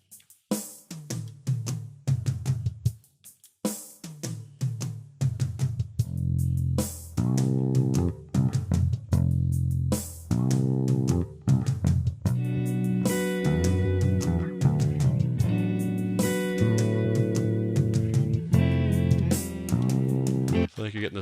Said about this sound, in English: So I've got the drum and then the bass and then the guitar all coming in one after the other.